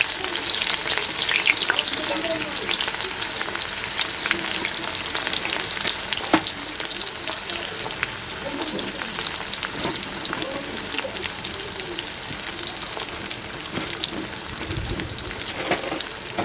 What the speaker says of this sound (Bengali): পেঁয়াজ আর একটা লঙ্কা দিয়ে নিলাম তো এটা একটুখানি মানে ভাজা ভাজা হবে